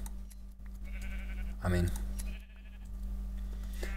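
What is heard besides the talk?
sheep bleating in Minecraft video game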